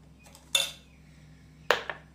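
A spoon mixes paan paste into thandai. Two distinct metallic clinks of the spoon against the glass stand out over a quiet background with a faint hum.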